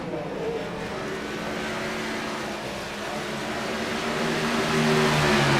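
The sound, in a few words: race cars racing on track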